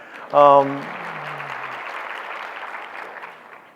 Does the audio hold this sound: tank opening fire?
no